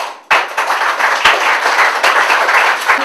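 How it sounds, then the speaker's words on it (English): Audience breaks into sudden, loud, steady applause at an evening presentation gathering, with sharp individual claps standing out in the dense clapping and no talking. "Can we have a huge round of applause for the persons who came here to give the presentation?"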